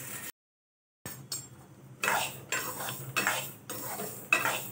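Ground niger seeds dry-roast over low gas in a pan while a spoon scrapes and stirs them in repeated rhythmic strokes, close and fairly quiet, after a short silent gap.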